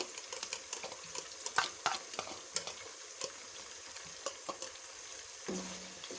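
Chunks of beef frying with finely chopped garlic in a pot for nihari, a soft steady sizzle punctuated by repeated scrapes and clatters of a stirring spoon, no voices.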